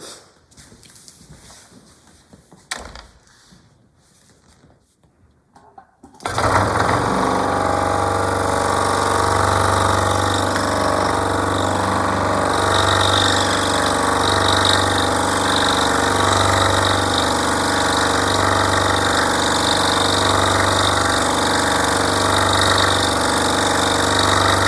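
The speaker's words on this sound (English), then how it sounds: "drilling the hole." A drill boring a hole for scroll saw inlay work, starting after a few seconds of quiet shuffling and then running as a loud, steady motor whine and hum for the rest of the clip, close up with no talk.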